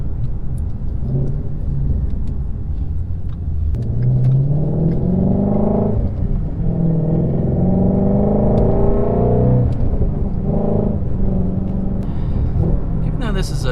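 Ford Mustang Shelby GT350 engine pulling at low revs around 1600 rpm, a deep steady rumble with a rising harmonic tone as it builds under load; a voice talks over it throughout.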